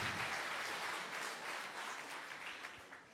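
A crowd at a French political meeting claps steadily, a dense, sustained round of applause that fades slightly toward the end, with no voices over it.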